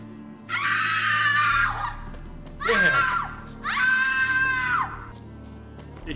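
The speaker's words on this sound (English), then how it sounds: "Just wanted to hear the scream again before you get rid of it." Three loud screams from The Witcher 3: Hearts of Stone on the Death March difficulty, each about a second long with short gaps between them, heard alone over a low game background hum.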